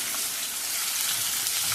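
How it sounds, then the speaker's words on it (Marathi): Onion hits hot oil with cumin seeds and sizzles in a dense, steady hiss with no voices. "तेल झालं जिरं झालं का मग आपण कांदा टाकू त्याच्यात"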